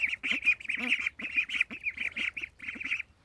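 Several farm ducks in a pen quack in quick, overlapping bursts, close and fairly loud, a chattering run of nasal calls with brief gaps between them and no talking.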